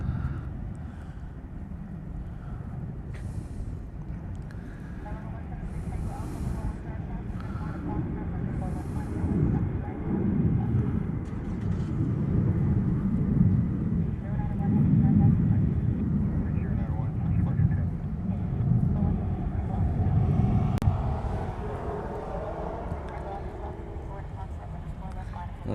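Boeing KC-46 tanker aircraft departing Honolulu airport in Hawaii, a steady low jet roar building and swelling over about twenty-five seconds, with people talking faintly in the foreground.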